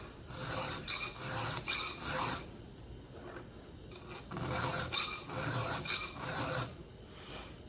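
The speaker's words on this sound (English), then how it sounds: "This is the first sharpening on this chainsaw blade, by the way, and it could have kept going" A hand file rasps along a chainsaw blade during sharpening, a series of quiet rhythmic strokes in groups with short pauses between, close up and alone.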